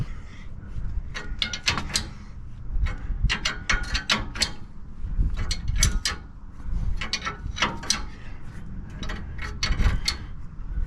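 Wrench ratcheting on the rear U-bolts of a truck lift kit, rapid clicking bursts repeating in close, fairly loud runs with brief pauses between strokes.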